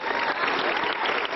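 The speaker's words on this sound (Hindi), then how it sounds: "अच्छा, तो चलिए बाबा जी के लिए तालियां बजा दीजिए पहले।" An audience applauds for Baba ji at a Karnataka election devotional programme, steady dense clapping throughout, loud and close with a faint murmur of voices mixed in.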